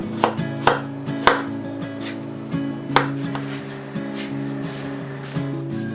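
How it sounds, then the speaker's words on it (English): Strawberries sliced with a knife on a board for a Japanese Christmas cake, giving several crisp chopping taps, loud and close, some in quick pairs, over a steady background hum with sparse light clatter. "Take the stems off the strawberries and cut half of them into slices."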